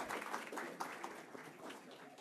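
Quiet, distant applause for the children who led the Pledge of Allegiance at a county judge's swearing-in ceremony, a continuous soft patter of many hands lasting the whole clip.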